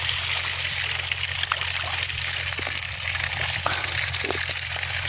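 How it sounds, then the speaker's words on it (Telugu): Water flows from a newly drilled borewell in a continuous close trickling gush, steady and fairly loud. "మొన్న బోర్ వేసిన ఇగో నీళ్ళు ఇలా వస్తుంది"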